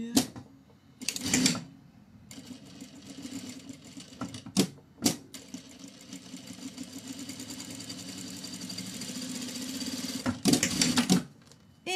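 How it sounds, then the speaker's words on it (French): A sewing machine topstitches fabric in steady running bursts, with short pauses and sharper stops between passes, heard close and alone with no voices. "Et on vient faire notre petite surpiqûre."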